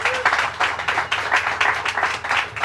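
An audience at a Governor Cuomo public event breaks into steady applause, dense rapid clapping from a crowd that fills the room, with no speech over it.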